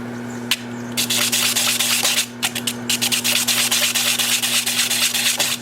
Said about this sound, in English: He suggested taking a foam brush and putting sandpaper around it, and then I can keep my hand out of the way.